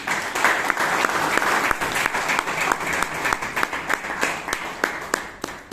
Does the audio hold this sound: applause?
yes